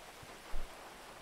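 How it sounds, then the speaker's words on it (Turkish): Steady rain hisses evenly in GTA 5, with a couple of faint low thumps beneath the constant wash. "Aha şimdi yağmur başladı"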